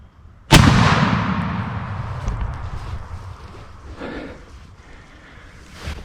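A single loud, sharp gunshot aimed at a wild turkey on Wisconsin public land during spring turkey season rings out outdoors, then decays slowly over several seconds with faint rustling afterward.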